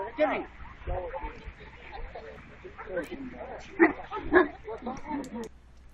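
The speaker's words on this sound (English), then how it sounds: "And you can hear the dog barking." A dog barks and yips several times in short bursts, partly under a person talking nearby, in a landscape of melting permafrost.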